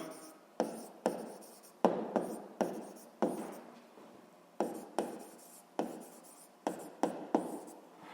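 Pen scratching on paper in a series of short, sharp strokes with brief pauses between them, close and quiet in an otherwise still room.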